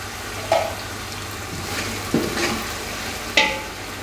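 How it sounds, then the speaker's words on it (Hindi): Chicken pulao ingredients with green chilli paste fry in a pan under a steady low sizzle, with three sharp clinks of a utensil against the pan spaced a second or two apart. "इसको हम 2 मिनट तक फ्राई करेंगे।"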